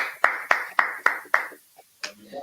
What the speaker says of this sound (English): give the officer a couple of hands for applause